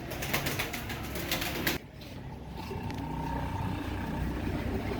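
Prized pigeons kept by a fancier, heard as soft bird sounds and flutters over a loud steady outdoor rumble that drops abruptly partway, leaving a quieter hum.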